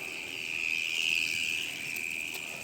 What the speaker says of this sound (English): crickets are loud